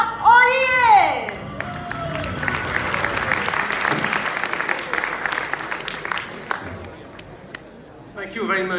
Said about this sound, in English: Please, once again, give a big applause for Mr. Nicolas Ollier.